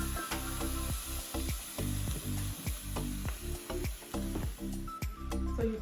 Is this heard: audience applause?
no